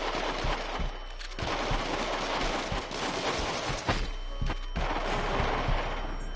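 Heavy, continuous machine-gun fire from Until Dawn: Rush of Blood, a horror rail shooter, pounding loudly with sharp individual shots and a couple of heavier impacts throughout.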